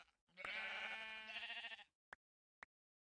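One drawn-out Minecraft sheep bleat, loud and close, followed by two short sharp clicks in otherwise quiet surroundings.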